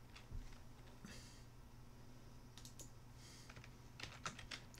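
Someone types a git command on a computer keyboard, quiet scattered keystrokes in short bursts with pauses between, heard close but faint with no talking.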